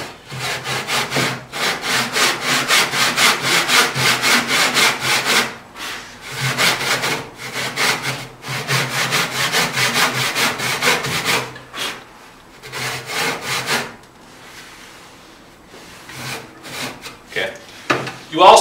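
Hand saw cutting wood for cabinet joinery, rasping in fast regular back-and-forth strokes that come in bursts with brief pauses between, close and loud, tapering off near the end.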